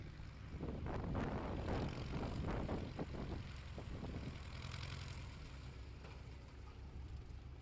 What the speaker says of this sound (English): Jared Gerritsen now flaps down on short final. You can see he's crabbing into the wind